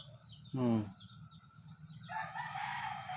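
Rooster crows once, loud and near, in a short strained call amid faint background noise, followed by softer clucking or bird calls from chickens.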